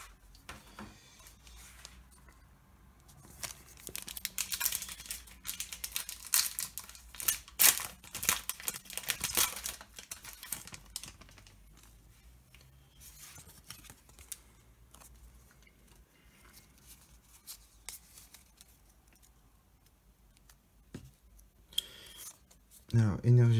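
Pokémon card booster packs from a Crobat V box being torn open, with crinkling foil wrappers and rustling cards in bursts that fade to quieter handling and end in a louder rustle.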